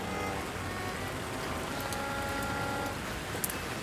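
Steady rain falling, a dense even hiss of drops with a few faint ticks, constant and moderately loud with no voices.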